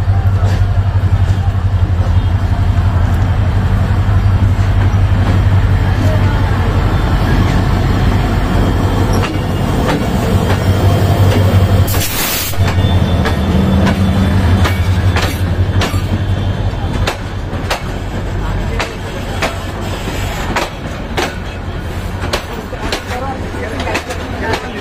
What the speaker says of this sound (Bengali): না না, এটা ট্রেন আইছে